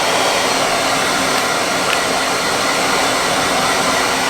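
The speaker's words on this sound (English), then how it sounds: "this is our usual blow dryer." A hair dryer used for grooming dogs blows steadily and loudly throughout, a constant broadband whoosh with a faint motor hum and no voices.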